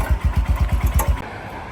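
A Royal Enfield Himalayan motorcycle engine cranking over with about nine rapid, even chuffs, loud and close, then cutting out abruptly.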